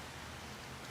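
Steady rain falls as an even, faint hiss of drops with no other sound.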